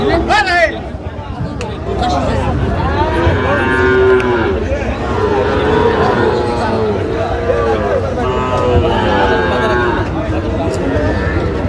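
Sahiwal bull calves lowing at a farm market, repeated loud moos close by over busy crowd chatter and people talking.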